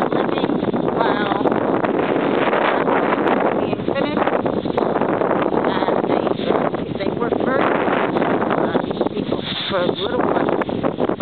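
Heavy dry-season wind at a house construction site in Panama, a loud, continuous roar buffeting the microphone, with a voice faintly present underneath.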